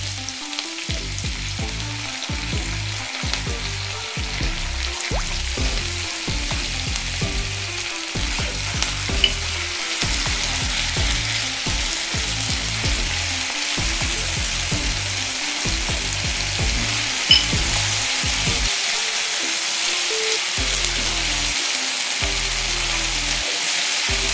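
Steady loud sizzle of ginger garlic paste frying in a pan while cooking methi chaman, with repeated low knocks of stirring throughout and no talking.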